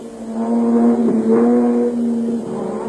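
A Toyota off-road racing car on a rally stage roars close by, its engine note rising and falling as it revs and shifts, loud and continuous for a few seconds with no talk.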